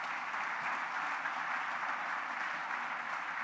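A full audience applauds steadily for the script writers at a college cultural fiesta, the Jnana Deepa Institute of Philosophy and Theology's JD Day 2023. The dense, even clapping holds at constant loudness throughout, with no voices over it.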